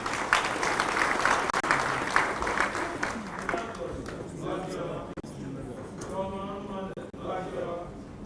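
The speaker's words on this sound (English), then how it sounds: "can we please welcome him with a round of applause?" A conference audience at a regional cocoa research symposium for West and Central Africa claps to welcome a speaker. The applause is full and steady for a few seconds, then thins and dies away as a voice begins speaking.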